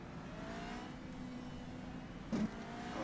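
Formula Renault 3.5 race car engine in the rFactor 2 racing game at Montreal, a steady droning engine note holding constant with a brief louder burst near the end, no talking.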